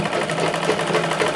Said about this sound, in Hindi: मोड़ करके दूसरे किनारे पर हम चलाएंगे इसमें सिलाई